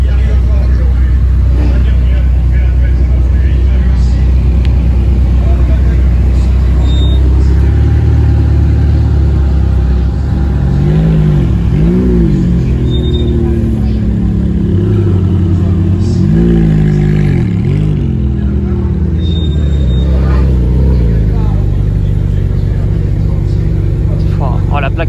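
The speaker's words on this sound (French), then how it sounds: "Oh, là-bas, on a une 458 Speciale qui arrive aussi, les gars." Ferrari cars including a 458 Italia and a 458 Speciale driving past, a loud continuous engine rumble with rising and falling revs and pass-bys, heard beneath people talking throughout.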